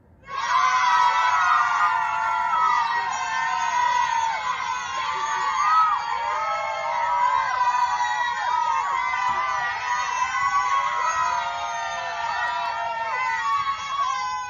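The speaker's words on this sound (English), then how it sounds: "I'm going to give you a big cheer." Children cheer loudly together, a crowd of young voices whooping and shouting that runs steadily for about fourteen seconds without a break.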